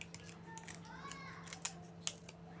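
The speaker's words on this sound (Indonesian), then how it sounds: "kita gunting miring ya, miring menuju ke" Scissors cutting diagonally through a used plastic bottle while crafting a decorative flower, giving a few crisp, close snips over soft background noise.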